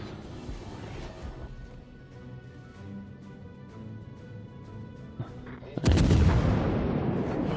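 Naval artillery fire from a battleship in World of Warships: distant dull booms recur over a steady engine rumble, then a loud heavy salvo blasts out near the end and rolls away under lingering roar.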